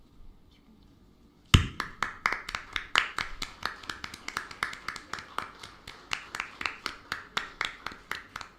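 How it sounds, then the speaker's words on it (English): Steady, evenly spaced claps start after a quiet opening moment and continue as a crisp rhythmic beat, welcoming the Chief Minister of Odisha at the inauguration of the World Skill Center. "Let's have a big round of applause."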